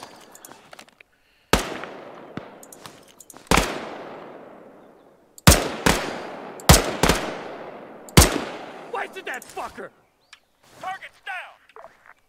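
Gunfire in the military game Arma 3 crackles through the town of Zargabad. Sharp single shots and quick doubles come irregularly over several seconds, each with a ringing echo tail, some near and loud, others fainter.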